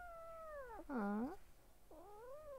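A cat meows three times, with a louder, drawn-out call in the middle, each one clear but fairly quiet in a calm indoor room.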